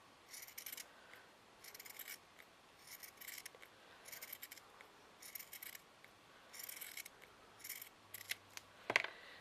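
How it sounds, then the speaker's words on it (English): Scissors snip through felt while trimming a chewing-gum pin cushion shape, producing quiet, crisp cutting strokes in short repeated bursts with pauses between them, close up in a still room. "I'm just going to cut round that again."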